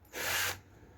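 A power drill bores a hole while a luggage rack is fitted to a Can-Am Spyder, giving a single close, rasping burst of about half a second that stops abruptly.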